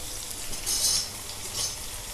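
Chopped garlic fries in a pan with fenugreek leaves and onions for a mutton-and-sorrel curry, making a steady, soft sizzle with faint swells and light stirring, and no talk.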